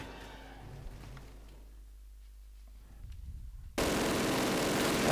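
In the Call of Duty video game, shots are fired at rocks: scattered crackling shots build up, then a sudden loud, sustained burst of gunfire noise cuts in and holds to the end, with no speech.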